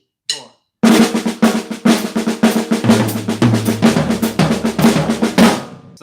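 Drum kit playing Vinnie Colaiuta's flam 7's lick over a 16th-note subdivision, loud and close with rapid, evenly spaced strokes and a low bass-drum layer joining midway, no talk.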